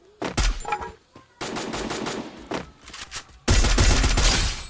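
Rapid automatic gunfire in a battle royale game, SCAR and MP40 weapons, loud close bursts in three main volleys with brief pauses between, no talking over it.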